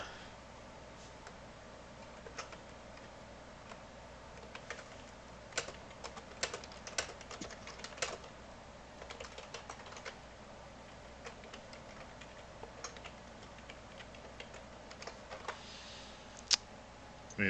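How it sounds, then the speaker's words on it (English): Computer keyboard typing picked up by a desk microphone during a voice chat: scattered, irregular clusters of light key clicks over a faint steady background hum, close but quiet. "I also hear your keyboard noises"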